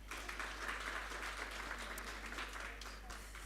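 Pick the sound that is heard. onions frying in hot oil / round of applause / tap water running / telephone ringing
round of applause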